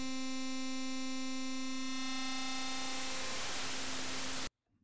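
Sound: FM synth feedback turned up into white noise

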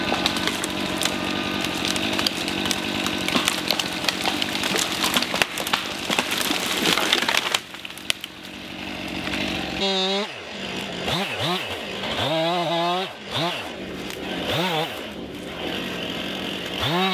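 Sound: small chainsaw cutting down trees

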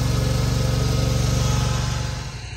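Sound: old Ransomes greens mower mowing golf course greens

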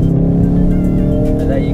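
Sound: Ford Focus RS accelerating in third gear

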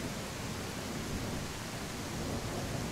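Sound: rain in the video game Tribe: Primitive Builder

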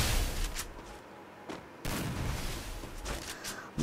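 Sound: gunfire in Free Fire video game, shotguns

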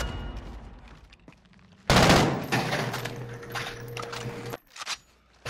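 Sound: gunfire in a shooting video game

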